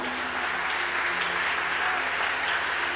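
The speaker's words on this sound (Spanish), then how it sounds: "Dale un fuerte aplauso al Señor." Sustained, dense applause from a large church congregation, steady and loud throughout with no voices standing out.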